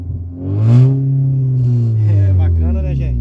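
A Brazilian car's engine in the Car Parking Multiplayer game roars loudly and steadily, swelling in pitch and holding a deep, throaty drone for about three seconds.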